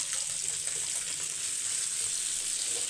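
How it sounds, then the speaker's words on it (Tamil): Fish fries in hot oil, giving a dense, steady sizzle and fine crackle close up, even in level throughout, with no voices. "இன்னும் ஒரு மீன் இருக்குது வறுத்துட்டு மொத்தமாக உங்களுக்கு பிளேட்டில் வச்சு காட்டுறேன்"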